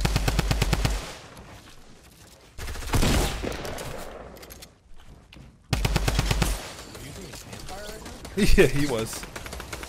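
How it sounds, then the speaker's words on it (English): Rapid automatic gunfire in Fortnite Battle Royale, loud bursts of machine-gun shots separated by pauses, with a player talking briefly between them. "Wait, where are we getting shot from right now? Oh my god. Yeah, there's people shooting."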